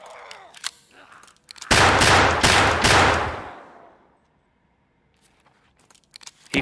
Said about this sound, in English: I heard one. Someone's shooting.